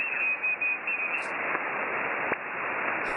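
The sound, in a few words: amateur radio pileup on 17 meters received via SDR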